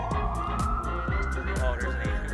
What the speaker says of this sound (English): You hear that ambulance?